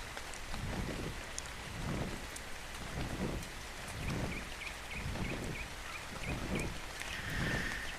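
Rain in the ARK: Survival Evolved video game, a steady hiss of falling drops with soft, rolling swells that rise and fade every second or so, continuous and fairly quiet with no talking.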